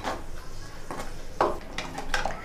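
A ground onion and tomato paste is sautéed over low heat for crab gravy, with a spatula scraping and clinking against the pan in several distinct strokes and only a faint sizzle.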